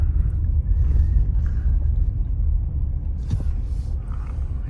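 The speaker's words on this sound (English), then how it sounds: "So that wind is not letting up." Strong wind during a snowstorm roars steadily and loudly in a low, continuous rumble with faint gusty texture, and no voices are heard.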